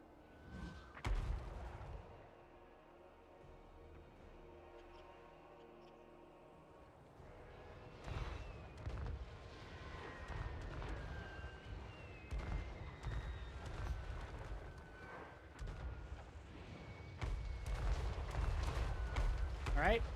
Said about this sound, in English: I can just call in off-map artillery support